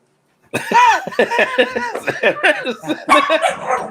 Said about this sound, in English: the dog barked at that time